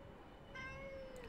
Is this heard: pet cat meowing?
yes